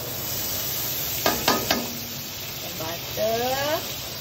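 Butter melting in a pan at the start of cooking chicken buttermilk gives a soft, steady sizzling hiss, with a few sharp clinks of a utensil and a brief voice over it.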